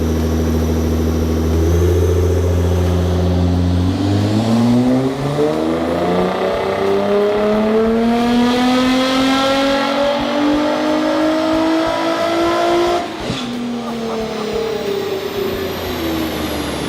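A built Nissan R35 GT-R making around 675 horsepower revs hard, its loud engine note climbing steadily in pitch for several seconds before cutting off abruptly, then settling into a lower running drone, close and alone.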